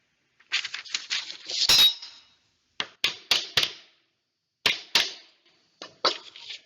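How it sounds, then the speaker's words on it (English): Short sharp metallic taps of blades being lightly hammered into a scrap wood piece, about seven crisp strikes in small clusters with brief ringing decays, close and alone. "just going to use these blades and just slightly hammer them into the piece on the line"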